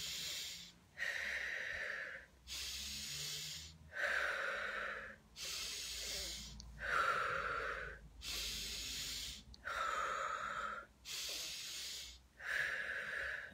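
Deep, slow breaths during a guided breathing exercise, about eight long airy inhales and exhales in an even rhythm, close and fairly soft, with short pauses between them.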